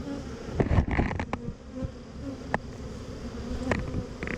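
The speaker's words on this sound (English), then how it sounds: "now I've got a queenless swarm" A queenless honey bee swarm hums in a dense, continuous buzz, close by, with a few scattered knocks and handling sounds on top.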